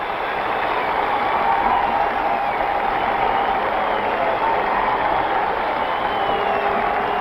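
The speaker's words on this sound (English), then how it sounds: "It's a standing ovation at the new Madison Square Garden." A sellout crowd at the new Madison Square Garden gives a standing ovation at the 1970 NBA Finals Game 7, Knicks versus Lakers. It is a steady, unbroken roar of cheering and applause on a thin, muffled broadcast.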